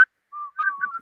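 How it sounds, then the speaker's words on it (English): Someone whistles a short, clear tune of a few sliding notes, near and alone in otherwise silent surroundings. "they be sitting there whistling for real too"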